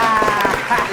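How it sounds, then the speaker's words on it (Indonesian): Applause from a studio audience on a Ramadan quiz show, a short burst of clapping heard together with music and a voice. "tepuk tangan buat Daniel Faiz."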